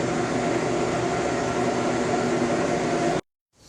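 A Harrison M300 lathe runs at its lowest speed, a steady, close mechanical whir and hum held evenly for about three seconds before cutting off abruptly into silence.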